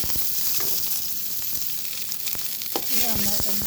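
Vegetables, ginger and curry leaves sizzling in hot oil with cumin, a close steady crackle with scattered spatula scrapes and stirring clatter, fairly quiet and free of talk.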